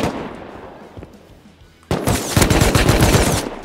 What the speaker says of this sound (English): Yeah, there's AK on me.